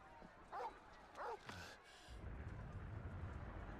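A dog in the Final Fantasy XVI video game gives two short, close yips or barks, then a whining tone, before a steady low rumble of game ambience takes over.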